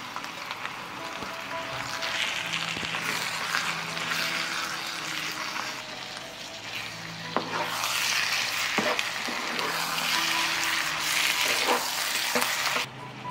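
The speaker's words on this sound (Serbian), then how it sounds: "Dodajem i meso i njega ću pržiti 10 minuta." Meat sizzling in a pan with onions already fried, crackling steadily up close while a spoon stirs and scrapes now and then, with no talk over it.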